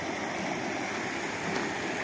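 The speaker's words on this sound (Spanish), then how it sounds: "El caudal de agua del río" Caña Baralejo river swollen after rain, a continuous broad rushing roar of flowing water, steady and fairly close with no talk.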